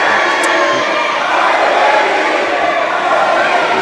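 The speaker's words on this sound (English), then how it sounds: "The crowd definitely chanting, I hate Phoenix." A loud, dense wrestling crowd at a 40-person rumble event chants 'I hate Phoenix' in unison, a steady roar of many voices with no break.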